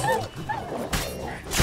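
A dog whimpers and yelps in short, high whines in The Witcher 3 video game, followed by a couple of sharp impact bursts, close and fairly loud.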